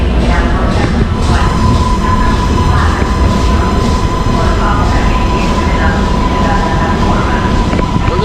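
A MARTA metro train on Atlanta's rail system rumbles loudly and steadily from start to finish, with a sustained high wheel squeal and a dense roar of rolling cars, close and continuous.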